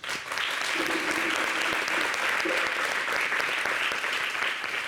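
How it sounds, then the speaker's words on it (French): A crowd at an outdoor evening show in Abidjan breaks into spontaneous applause, a thick and sustained roar of clapping, with a faint voice briefly audible beneath it. "Ils applaudissent spontanément."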